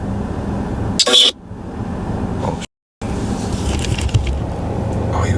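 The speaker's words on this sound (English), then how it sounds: "there goes that truck again." A truck passes outside, a loud broad rumble of traffic noise that runs across the clip, with a brief sharp burst early on and a sudden gap where the sound cuts out; a voice briefly exclaims.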